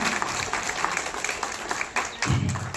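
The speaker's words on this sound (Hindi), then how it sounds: "एक बार जोरदार ताली बजा के आप स्वागत कर दीजिए" At a Suheldev Bharatiya Samaj Party regional review meeting, the audience claps to welcome a party official, a moderate scattered patter with a few louder bursts and a low thump near the end.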